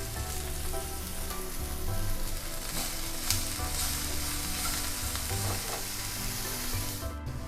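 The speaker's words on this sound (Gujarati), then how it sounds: "અને એને થોડું સાંતળી લઈશું." Capsicum slices with a little salt sautéing in a pan for jeera rice, a steady close sizzle and crackle running continuously without any talk.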